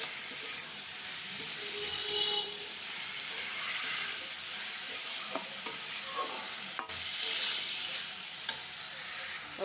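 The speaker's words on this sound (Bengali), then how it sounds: "এবার একটু ভালো করে নেড়ে একটু জল দিয়ে দেবো।" Watermelon peel curry with salt and turmeric sizzling in a pan while being stirred, a continuous hissing fry with repeated scraping and tapping of the spoon against the pan.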